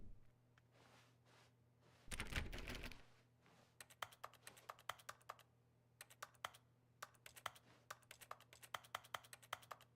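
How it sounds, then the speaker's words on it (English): Keyboard-like typing clicks sound each time a button is pressed in The Stanley Parable video game, coming as quick bursts of taps and single clicks after a short louder rush of noise. "Why does it sound like I'm like typing on a keyboard when I hit the button?"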